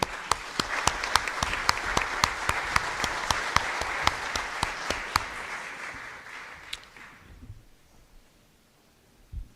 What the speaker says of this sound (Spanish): Fuerte aplauso para recibirlo.